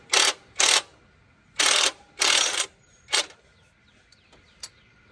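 Ratchet wrench tightening a 5/8 bolt on a car's power steering pump, with five short bursts of rapid clicking separated by pauses, fairly close, followed by a few faint metallic clinks.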